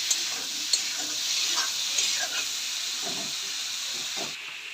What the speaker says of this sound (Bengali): এখন নুন হলুদ দিয়ে আমি এগুলিকে লাল লাল করে ভেজে নেব।